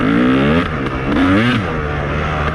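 A KTM 300 two-stroke motorcycle engine revving under smooth, steady throttle, loud and close, with pitch sweeping up and down through a few short rises before settling at a high buzzing idle.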